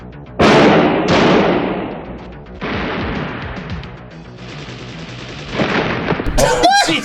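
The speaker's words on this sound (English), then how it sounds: "he just gets shot in the back" Gunfire rings out in a cop film, two sharp loud blasts in quick succession followed by a rumbling tail, with further clatter and a voice near the end.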